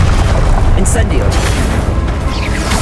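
A fiery Incendio spell from the video game Hogwarts Legacy bursts in a loud, continuous roar of flame and booming impacts that fill the whole stretch of the duel.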